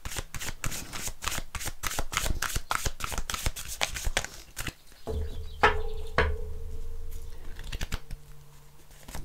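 Oracle cards being shuffled by hand, a fast run of crisp riffling flicks for several seconds, then a pause and a few slower card slaps and shuffles close up, with no talk over them.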